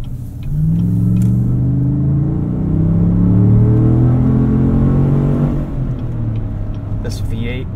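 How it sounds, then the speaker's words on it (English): A 2018 Chevrolet Tahoe RST Performance Edition V8 accelerates hard on a night drive, heard from inside the cabin: a deep, loud engine note rising steadily in pitch for several seconds, then easing off. "This V8 sounds phenomenal."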